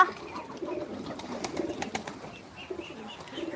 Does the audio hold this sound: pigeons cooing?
yes